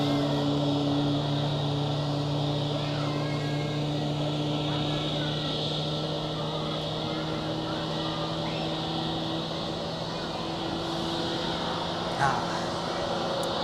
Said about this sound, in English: That's the engine startup